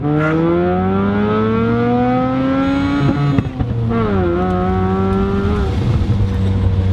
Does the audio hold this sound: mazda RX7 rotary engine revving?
yes